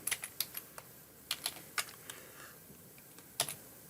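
Someone types a pip install command on a computer keyboard at a command prompt, giving a sparse run of light, crisp key clicks in small bursts with short pauses, close and quiet with no talking.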